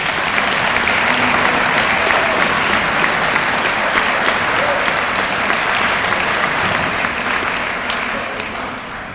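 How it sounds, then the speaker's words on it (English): At a high school fall sports banquet, the audience claps loudly for award winners. The applause is thick and steady and eases slightly toward the end. "We get a big round of applause for all our award winners tonight."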